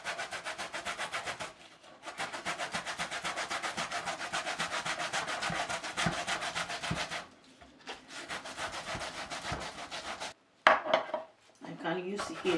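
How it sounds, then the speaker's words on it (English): Cassava (yuca) is rubbed rapidly against a hand grater while making Ghanaian yake yake, a close, rhythmic rasping scrape in long runs broken by brief pauses, with a voice speaking near the end. "So I'm going to grate it."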